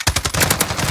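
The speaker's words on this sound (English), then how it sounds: "It's alright for an LMG." Rapid, loud close-range bursts from an M91 light machine gun in Call of Duty Modern Warfare, evenly spaced shots in a fast rhythmic stream, no talk.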